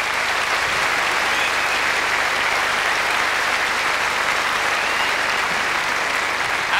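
Sustained applause from a live theatre audience at a 1994 comedy stage show, a dense, steady wash of clapping hands filling the whole stretch at even loudness.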